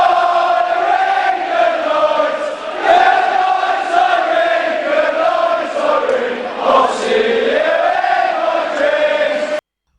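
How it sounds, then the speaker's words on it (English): A large football crowd sings the terrace song Goodnight Irene in unison, a loud, sustained chorus of many voices swelling and dipping with the melody for about ten seconds before cutting off abruptly. "when a football crowd sing it, it sounds a little different."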